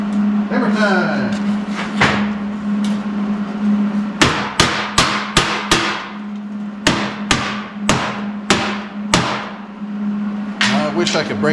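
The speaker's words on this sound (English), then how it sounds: "Hammer time." Hammer blows in a garage workshop while fitting a 55 Chevy into a 46 Chevy pickup: sharp metallic strikes, a steady rhythmic run of about a dozen hits over a constant electrical hum, with voices briefly at the start and end.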